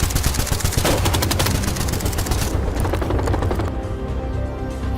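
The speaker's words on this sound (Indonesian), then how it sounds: "berondongan peluru secara brutal." Rapid, sustained burst of automatic gunfire in a film robbery scene where a shopkeeper is shot, loud dense cracks running for several seconds before thinning out into ringing echoes.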